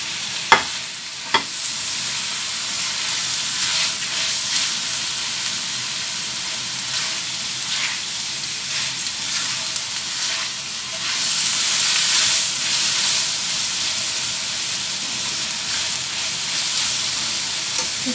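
Shrimp and carrots stir-fried in a wok for cap cay, a steady close sizzle and hiss of frying with a few sharp clicks of the spatula near the start, and no talk.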